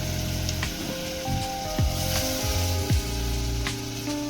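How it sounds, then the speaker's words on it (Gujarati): Dal being tempered in hot oil with spices on a home stove in Gujarat, while rain falls outside. A steady sizzle and crackle of frying runs throughout, with a few sharper bursts and clinks in between. No one speaks. "મિત્રો દાળ વઘારીએ છે।"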